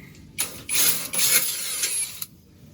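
A ratchet wrench removes the last bolts from an automatic transmission skid plate and oil pan on a Toyota or Isuzu vehicle: close, loud bursts of rapid clicking separated by short pauses, with no talking.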